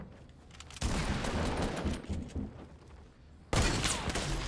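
Hunting rifle shots in an online shooter video game, sharp loud blasts near the start and later, each followed by rumbling decay and a dense burst of noise.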